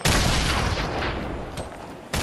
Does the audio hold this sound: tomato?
no